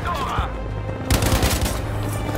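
A loud, continuous barrage of gunfire and explosive blasts in the video game Battlefield V, heard during a tank fight, with rapid repeated bursts and no talking.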